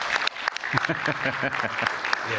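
Audience at a seminar applauds, a burst of clapping from a crowd, fairly close and lively, mixed with a voice speaking through it.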